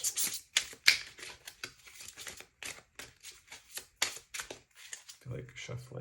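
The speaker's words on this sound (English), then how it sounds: "I feel like shuffling. A solid shuffle here." Tarot cards being shuffled by hand, a run of quick, crisp riffling and slapping bursts close to the microphone, ending with a voice speaking briefly.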